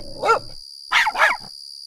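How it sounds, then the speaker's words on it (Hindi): A dog barks three times, one bark followed after a pause by two quick ones, sharp and fairly clear against silence, with a steady high electronic tone running underneath. "ऐसे में दूर से कुत्ता भौंकता हुआ सुनाई दिया।"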